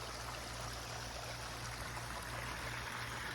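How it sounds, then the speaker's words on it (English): Steady, rushing water pouring from a pipe down a pond spillway, continuous with a dense hiss and a low rumble underneath, close by and unbroken throughout. "the water comes out of that pipe from the pond and has a lot of gusto to it"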